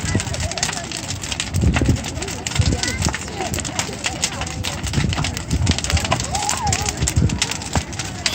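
Outdoor bonfire at the Easthampton Harvest Festival in Easthampton, Massachusetts, roaring steadily with wind-like rushing, cut by several dull thuds and knocks as a burning pallet collapses, with crowd voices in the background.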